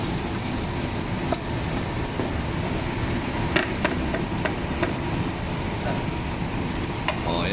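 Pakbet, a Filipino mixed vegetable dish, being stir-fried in a kitchen: a steady broad sizzle and frying hiss runs throughout, with scattered clinks and scrapes of a utensil against the pan.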